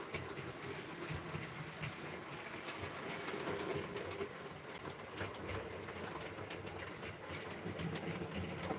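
A model railway Pullman train runs along the track with a faint, continuous rolling rumble and light rhythmic clicking, quiet and steady with no talk over it.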